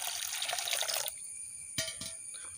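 Water splashes into a frying pan holding a cup of soya chunks, a steady pour for about a second, then stops, followed by a few drips and small splashes.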